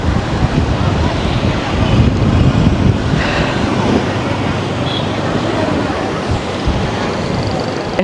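Sea waves at Kalmunai beach in Sri Lanka, a loud, continuous surf roar mixed with wind buffeting on the microphone, with talking in places.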